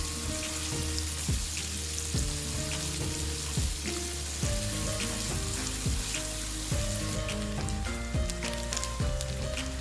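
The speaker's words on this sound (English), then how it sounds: "Saute the chopped onion until it becomes translucent." Chopped onion sautéing in a pan over a medium flame for a chicken noodle stir fry, a steady loud sizzle with crackling pops and occasional stirring scrapes, close and continuous with no voices.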